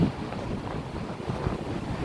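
Strong wind buffets the microphone outdoors with a steady, close, roaring rumble, gusting without pause near a temple.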